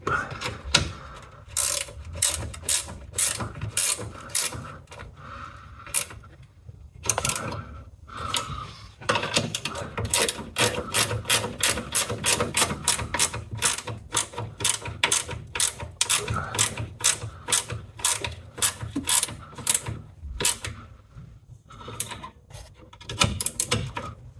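Ratchet tightening hood latch bolts on a Toyota Auris, long runs of rapid clicking pawl strokes with brief pauses between bursts, close and clear.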